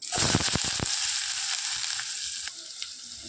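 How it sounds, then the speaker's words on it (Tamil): Sliced large onions hit hot oil in a pan with a loud crackling burst at first, settling into a steady dense sizzle with a few stirring knocks, close by and without talk. "ஆயில் ஊற்றியாச்சுங்க இப்போ பெரிய வெங்காயம் போட்டுடலாம்"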